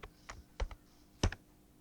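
Keystrokes on a computer keyboard while a captcha is typed into a form, a few sharp taps spaced irregularly over a quiet background hum, with no talking.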